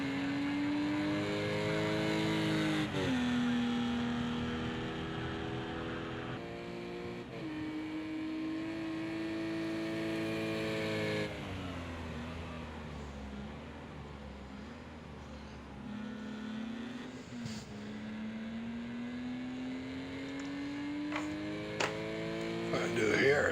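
GT4 race cars in a racing video game howl around the track, engine notes climbing and dropping through gear shifts as cars pass close, with faint talk in the background.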